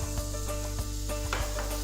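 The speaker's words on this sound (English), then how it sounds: "Nice and sizzling." Steady sizzling of onion and garlic frying in a pan for Spanish rice, with scattered sharp crackles and scraping clicks over a continuous hiss, close and moderately loud.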